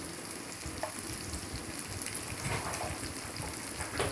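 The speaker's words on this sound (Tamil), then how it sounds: "கடுகு உளுத்தம்பருப்பு நல்லா புரிஞ்ச பிறகு கறிவேப்பிலையும் கட் பண்ணி வச்சுட்டு ஆனியனும் சேர்த்துக்கலாம்" Mustard seeds, urad dal, curry leaves and onion sizzle in hot oil in a pan while making vazhakai podimas, a steady close crackling fry with scattered popping seeds throughout.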